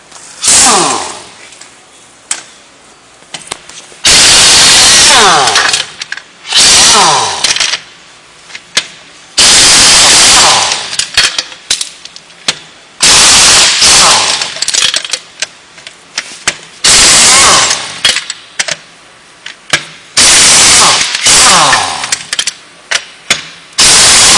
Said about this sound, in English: grab your 1-inch air gun with a 1 5/16 socket